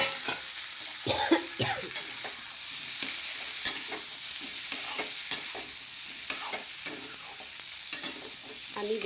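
Pieces of elephant foot yam and potato fry in a pan, a steady bright sizzle with intermittent scraping and stirring knocks from a utensil, close up and with no voices.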